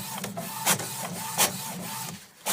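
A printer prints with a continuous rasping, rubbing mechanical whir, broken by a few louder periodic clunks of the print head or paper feed, close and steady.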